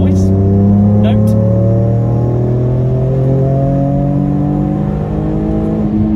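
An Alfa Romeo 147 GTA engine revs steadily upward, a rich droning note climbing in pitch, loud and close throughout.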